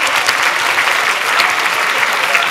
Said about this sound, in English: Just a round of applause for our winning team.